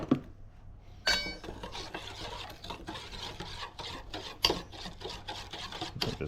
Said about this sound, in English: Just mix this together.